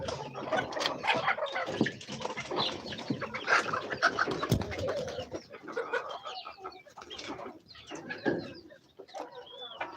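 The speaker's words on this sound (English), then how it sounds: "These are all local birds." Local chickens and ducks on a farm make a busy, fairly faint chorus of clucks, chirps and calls, overlapping continuously with no talk.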